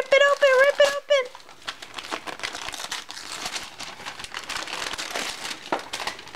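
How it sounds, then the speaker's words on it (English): A child tears wrapping paper off a present, producing dense crinkling rips and rustles that continue steadily after a brief burst of voice at the start. "Rip it open, you gotta tear it up, boy."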